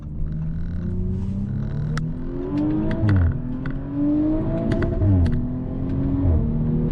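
An Audi RS5 Sportback V6 engine revs up and down a few times, a smooth, throaty exhaust note rising and dipping in pitch, heard alone without talk.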